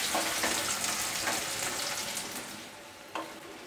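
Onion fries in hot oil with cumin, curry leaves and asafoetida, giving a steady, close, bright sizzle with faint stirring scrapes and no voices.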